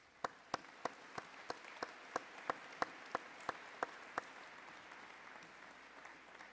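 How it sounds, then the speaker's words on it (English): Faint, slow clapping at an undergraduate commencement ceremony: about a dozen crisp, evenly spaced claps in a steady rhythm over soft room hum, then the claps stop and only the hum remains. "Please give yourselves a round of applause."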